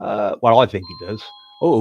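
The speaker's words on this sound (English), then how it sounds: "that's a doorbell" A doorbell chimes with a steady sustained tone partway through, sounding under and between close conversational speech from a person talking at home.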